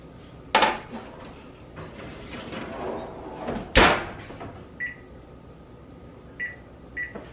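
Buttermilk biscuits slide into a home oven: two sharp thuds of the tray and oven door closing, a few seconds apart, then three short electronic beeps as the timer is set, close by with no talking.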